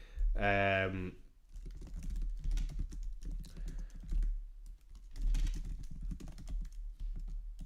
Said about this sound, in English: I was just typing out a poll